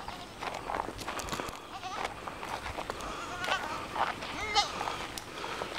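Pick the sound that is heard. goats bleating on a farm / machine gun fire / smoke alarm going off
goats bleating on a farm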